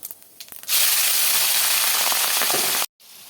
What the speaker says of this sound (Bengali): নুন হলুদ দিয়ে মাখিয়ে রাখা চিংড়ি মাছগুলো দিয়ে দিলাম।